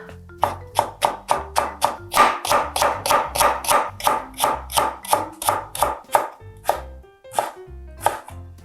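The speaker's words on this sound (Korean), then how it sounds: "당근 약간만 썰어 넣겠습니다" A knife chops carrot on a cutting board for a Korean cabbage pancake, a quick run of about twenty sharp, evenly spaced taps that is loud and close, with no talking.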